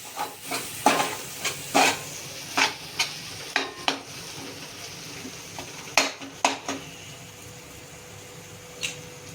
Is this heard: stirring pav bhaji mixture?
yes